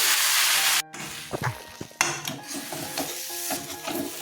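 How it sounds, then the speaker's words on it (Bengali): A jackfruit seed mixture goes into hot mustard oil in a pan, a loud rush of frying that cuts off, then a steadier crackling sizzle with scattered clinks and scrapes close up, no talk. "সর্ষের তেল দিয়ে দিচ্ছি তেলটা গরম হয়ে গেছে ছেড়ে দিচ্ছি এটা"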